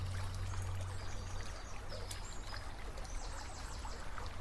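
A squeeze water filter pushes out a steady stream of water that pours continuously and fairly faintly at close range, with no talk.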